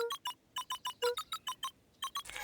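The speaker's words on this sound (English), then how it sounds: "cracked his knuckles and entered the letters into the keypad" Letters tapped into a phone booth keypad in the video game Beacon Pines: a quick run of about a dozen short electronic beeps of varying pitch in an uneven rhythm, ending in a brief burst of static, fairly faint.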